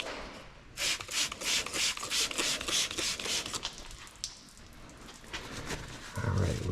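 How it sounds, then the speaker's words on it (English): A rag wipes pooled brake fluid off a Brembo big-brake caliper and rotor assembly on a Z31 300ZX, a run of rhythmic rasping rubs, close and fairly loud, with no talking. "wiping it down, trying to remove as much of the pooling of the brake fluid as possible"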